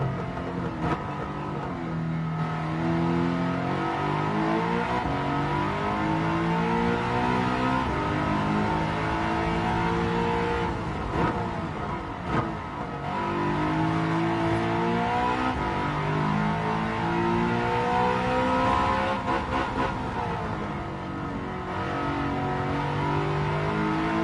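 Car engines in Gran Turismo 7 drone and rev continuously, pitch rising and falling through manual gear shifts, loud and steady with no voices.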